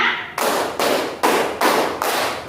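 Hands clap together in a group, five strong, even bursts in a steady rhythm with a slight room echo trailing each one, loud and close with no talking over them.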